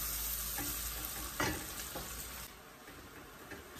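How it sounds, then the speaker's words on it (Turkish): Tomato and pepper paste being sautéed in a pan, with a steady close sizzle and occasional stirring scrapes that ease off toward the end. "salçasıyla güzelce kavurduktan sonra altını kapatacağım"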